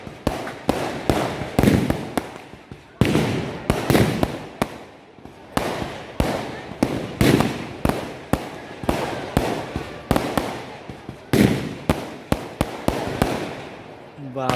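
Continuous fireworks on New Year's Day, a dense rapid series of sharp loud bangs and crackles in quick succession, close by, with voices talking over them at times.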